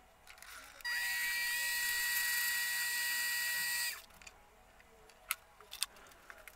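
Lathe turning down a brass pen shank to a quarter inch, a sustained high whine for about three seconds that starts and stops abruptly, followed by a few light clicks.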